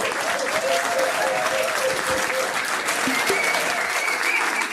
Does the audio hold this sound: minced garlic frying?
no